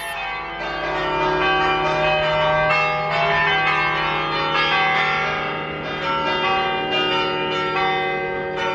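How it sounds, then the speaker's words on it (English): Large cathedral bells in Zadar, Croatia ring continuously with a rich, sustained resonance, their overlapping tones swelling and layering steadily throughout. "That is the cathedral ringing its bells."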